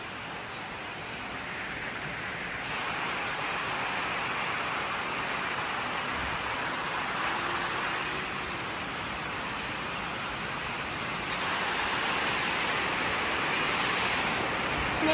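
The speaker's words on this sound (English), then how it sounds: "Oh my god, so much rain." Heavy rain pours steadily outdoors at a horse yard, a dense, continuous hiss that swells slightly louder partway through and holds at a constant roar with no voices.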